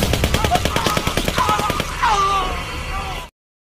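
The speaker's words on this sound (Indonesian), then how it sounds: "Namun Verano juga harus menemui ajalnya ketika ia tiba-tiba ditembak oleh pasukan Vietcong." Machine gun fire rattles out in rapid, evenly spaced bursts, loud and close, then breaks into a whooping, ringing tail before cutting off abruptly.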